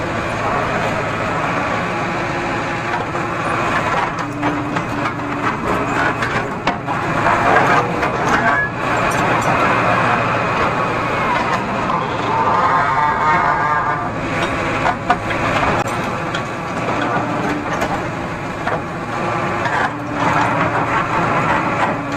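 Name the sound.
Tata JD 315 E backhoe loader engine running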